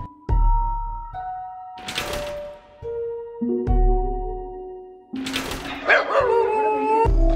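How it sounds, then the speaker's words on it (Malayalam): A dog barks on a roof in a series of loud, close barks and yelps with short pauses between them, and no one talks. "റൂഫിന്റെ മേളിൽ ഇതൊരു പട്ടി കുരക്കുന്നുണ്ട്."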